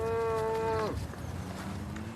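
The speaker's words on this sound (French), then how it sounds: "Cela fait plusieurs semaines qu'Alex et Peter surveillent attentivement cette vache." A cow on an Edwardian-era farm gives one long, loud, tonal moo lasting nearly a second, then falls to a quiet low hum of farmyard background.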